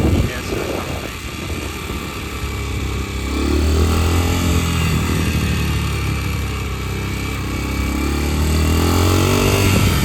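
A Kayo MR125 engine fitted with a NIBBI PE24 carburetor runs loud and close, its revs rising and falling in a rough, buzzing drone that carries through the whole stretch, with a voice talking over it.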